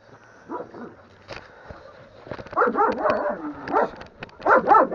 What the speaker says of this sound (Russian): Дурная собака.